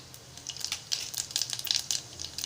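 Cumin seeds sizzle and crackle in hot oil while tempering for a Malvani-style moong dal and rice khichdi, close, soft irregular popping and hissing bursts with no talk.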